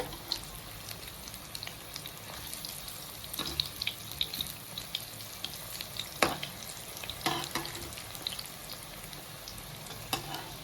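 Arbi leaf rolls fry in a kadhai over low heat, a steady close sizzle with scattered crackles and a few sharp pops, no voices.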